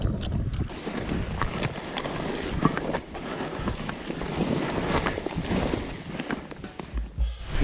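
Steady wind roars and buffets the microphone over a large lake, with waves lapping faintly beneath the gusts.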